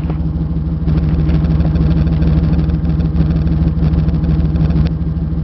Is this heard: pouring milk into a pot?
no